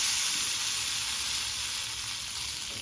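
A hot tempering of mustard seeds, dried red chilli and curry leaves in oil hits a curry, making a loud, bright sizzle that starts strong and fades slightly over a few seconds, with no one speaking.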